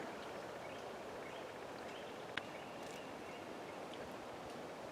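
A small creek flowing steadily, a soft continuous babble of water with a faint bird call or two in the background.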